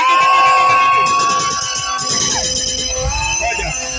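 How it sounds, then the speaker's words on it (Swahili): Crowd of local people at an outdoor support event in Embu cheering and shouting loudly, with excited children's voices; the noisy roar is strongest early and eases slightly, continuing with bursts of voices. "Wapi makofi ya watu wa Ndudhi."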